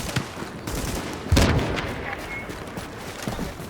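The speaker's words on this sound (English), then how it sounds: "We're just about to come up here and shoot the sniper." Sniper and rapid gunfire in the shooter game The Division, with several distinct shots and one loud, booming blast in the middle, followed by scattered, quieter rounds.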